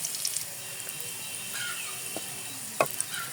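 A large garlic clove frying in two tablespoons of oil until brown, a soft steady sizzle with a few light clicks of stirring, faint and close.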